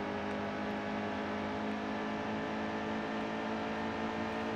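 Race truck engine in the NASCAR Heat 2 video game at Iowa, a steady droning whine at sustained revs, even in level and continuous throughout, with no voices.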